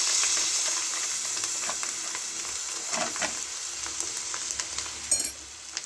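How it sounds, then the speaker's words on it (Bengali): Spices dropped into a hot pan for a fish-roe dish, a steady close hiss of frying with small sizzling crackles and a few stir clatters near the end. "এবার আমি মশলাটাকে দিয়ে দিচ্ছি।"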